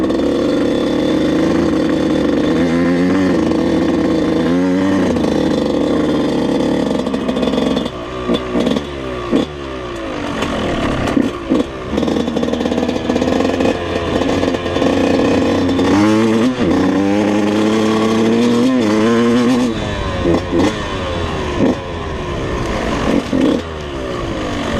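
A Yamaha YZ125 two-stroke dirt bike on top-end break-in runs loud and close, its engine rising and falling through repeated moderate revs and gear changes while being ridden easily, no speech.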